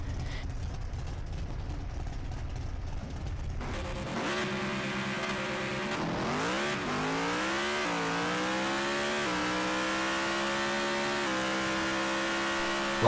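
Drag racing car in an online racing video game, a sluggish, poorly set up Mountain Motor Pro Stock, doing a burnout and then a full run, its engine note climbing steadily through the gears, loud and close with no talk.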